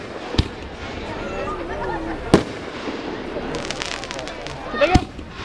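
Fireworks bang at the Bear River Cherry Carnival, three sharp separate cracks spaced a couple of seconds apart over a steady outdoor crowd murmur, with people talking nearby.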